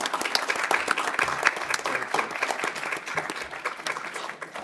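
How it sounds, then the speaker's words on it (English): A symposium audience applauds Ambassador Oh, a dense, continuous patter of many hands clapping at moderate volume, slightly distant, with a little murmuring underneath. "let's give Ambassador Oh a big round of applause"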